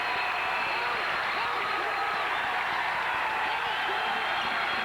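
Basketball arena crowd at a 1996 Tulsa at Bradley college game, a dense sustained roar of cheering and applause heard under a play-by-play announcer's voice.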